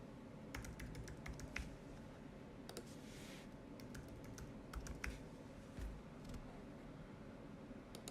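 A password being typed on a computer keyboard: scattered quick key clicks in small clusters, fairly faint over a steady background hiss.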